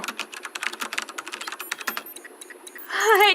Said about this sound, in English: It's typing by itself.